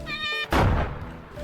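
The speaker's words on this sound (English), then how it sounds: "was a very delayed explosion" An explosion in Pokemon Platinum lands as one short, punchy thudding blast after a sustained game tone, then fades quickly.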